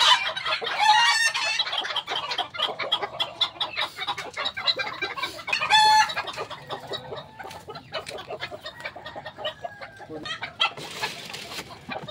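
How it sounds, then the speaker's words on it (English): Chickens clucking close by during egg harvesting, with busy overlapping clucks and squawks that rise in a few louder bursts, alone without talk. "Yung chicken."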